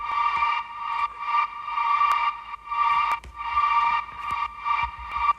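A single sustained ambient vocal note from a sample pack, used as a future bass effect, swells and fades in repeated phrases, steady and fairly loud with no talking over it.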